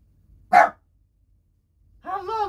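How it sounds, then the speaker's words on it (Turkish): A single sharp dog bark, followed after a pause by a person speaking briefly. "Havla oğlum, havla havla."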